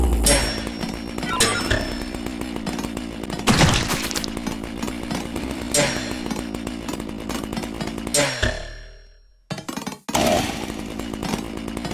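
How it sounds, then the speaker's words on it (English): A chainsaw in the local multiplayer game Move or Die revs loudly and continuously, with rough buzzing, brief thuds and crunching impacts, then cuts out into near silence before the game noise resumes. "Chainsaw backstab!"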